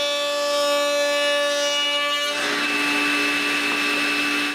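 A router bit cuts walnut wood, a steady high-pitched whine that holds for several seconds, then shifts into a broader, rougher roar as the cut bites in, loud and close.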